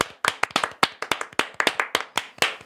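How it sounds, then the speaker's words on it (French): A single person claps right up against the microphones in a podcast studio, about twenty sharp, close slaps in an uneven, slightly quickening rhythm with no talk over them. "Rosa, on l'applaudit très proche des micros."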